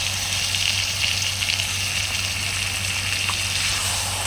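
Chicken fried with onion in a home kitchen, spices about to go in, gives a steady close sizzle and hiss with a faint watery bubbling beneath, continuous and even throughout with no talk.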